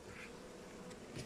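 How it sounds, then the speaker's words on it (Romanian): Honeybees hum inside a beehive during a late-September hive inspection, a faint, steady buzz heard alone for a brief moment. "Avem câteva albine și sus"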